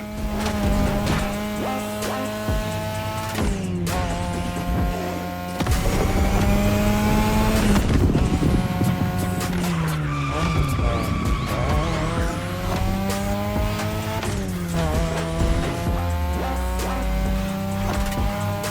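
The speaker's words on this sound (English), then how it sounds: "your ride is a 3rd Gen 2002 Mazda RX-7. Lightweight, compact, a sick rotary engine" A 3rd-generation 2002 Mazda RX-7 with a rotary engine racing in The Crew Motorfest, its high, buzzing engine note rising and dropping through gear shifts, with tire squeal and skidding, loud and continuous throughout.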